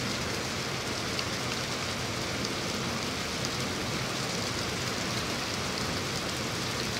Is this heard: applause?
no